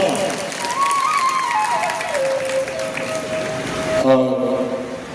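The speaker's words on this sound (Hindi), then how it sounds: "इनके लिए भी जोरदार तालियां।" A crowd at a saints' gathering at Narsingh Dham in Jammu claps for a mahant, a steady applause under a voice and sustained musical tones.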